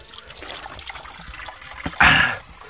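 Cold, clear spring water flows and trickles steadily nearby, rising into a louder splashing gush near the end, with no talk over it.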